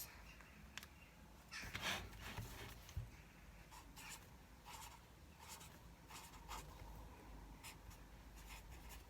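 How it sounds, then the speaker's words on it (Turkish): A thick pen writing on paper in a study planner gives soft, close scratchy strokes in short bursts with pauses between them, quiet throughout. "Kalın kalemlerde yazmak biraz zor ama yapacak bir şey yok."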